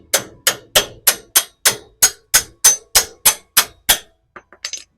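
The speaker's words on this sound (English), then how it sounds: "Let me grab my hammer." Steady, evenly spaced hammer strikes, about a dozen sharp metallic blows close up, followed by a few lighter taps, while installing a leveling kit on a Toyota Land Cruiser 200 Series.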